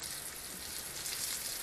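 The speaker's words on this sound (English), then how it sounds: "Now we hear it simmering" Chicken piccata fries in a pan of vegetable oil over high heat, giving a faint, steady, even sizzle that carries on unbroken with no voices over it.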